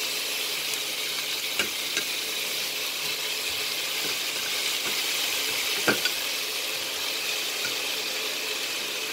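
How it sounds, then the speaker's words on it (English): Chicken sautéing in a pan before baby corn goes in, a steady close sizzle with a few sharp clicks of a spatula scraping the pan, no voices. "After sauteing it for 1 minute, I'll add the baby corns."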